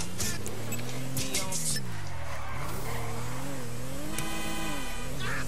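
Car in GTA V driving with a steady engine drone that swoops up and down in pitch as it accelerates and slows, with tire squeals and skids layered over the continuous motor noise.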